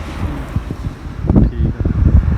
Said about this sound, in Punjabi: ਠੰਡੀ ਠੰਡੀ ਹਵਾ ਚੱਲ ਰਹੀ ਆ